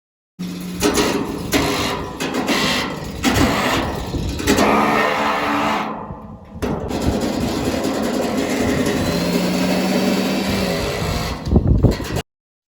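A metal stock tank being cut open for a backyard pool, giving a harsh, continuous grinding screech that runs loud and steady for most of the stretch, with a brief pause partway through.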